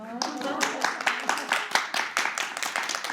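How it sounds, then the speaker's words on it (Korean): Audience at a Sebasi lecture on investing claps in distinct, fairly crisp strokes, a modest crowd whose hand claps come through individually at a roughly steady pace, with a brief voice at the start. "우리의 박수 치셔도 됩니다"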